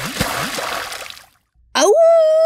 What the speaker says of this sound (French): Éclaboussure.